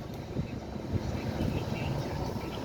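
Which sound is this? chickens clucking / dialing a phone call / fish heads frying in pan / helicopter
helicopter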